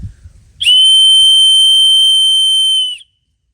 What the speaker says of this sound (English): this right here is supposed to be an emergency, very piercing whistle that can alert anyone